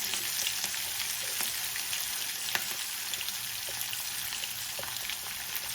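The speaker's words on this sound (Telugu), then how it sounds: "వెల్లుల్లి కొద్దిగా వేగాక 5 సన్నగా కట్ చేసి పెట్టుకున్న పచ్చిమిర్చిని వేసుకుందాం." Chopped garlic and green chillies frying in hot oil in a pan, a soft steady sizzle with light crackles and pops scattered throughout, fairly faint and without voices.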